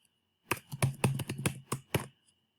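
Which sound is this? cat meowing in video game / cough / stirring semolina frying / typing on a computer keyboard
typing on a computer keyboard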